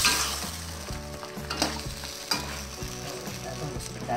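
Shrimp in sauce sizzling and frying in a pan while being stirred, a steady close crackle with a low hum beneath and a few sharp scrapes of the utensil.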